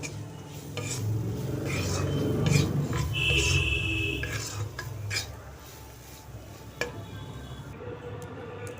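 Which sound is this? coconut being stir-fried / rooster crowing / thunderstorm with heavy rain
coconut being stir-fried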